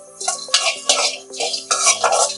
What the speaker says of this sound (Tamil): எண்ணெய் ஊத்தாம வெறும் வடை சட்டியில தான் நான் வந்து அந்த பாவக்காவை வதக்கி எடுக்கிறேன்.